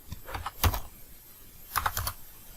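Close, brisk typing on a computer keyboard: two short bursts of rapid key clicks separated by a brief pause, with no voice over them.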